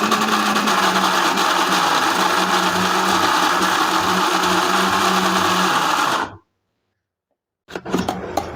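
A mixer grinder whirs loud and steady for about six seconds as it blends a moong dal and spinach batter with green chillies and curry leaves. It then cuts off into silence before a short burst of handling noise.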